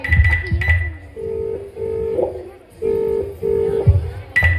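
Several telephone keypad tones beep in sequence, each a short steady pitch, with brief breaths and movement noises between them.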